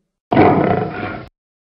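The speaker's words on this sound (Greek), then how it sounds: "Αυτό είναι ένα λιοντάρι που βρυχάται." A single deep, loud lion roar lasting about a second, full and growling, heard up close with no other sounds around it.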